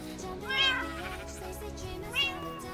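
Minecraft cats give two distinct meows, one early and one near the end, each fairly close and clear, with a low game background hum between them.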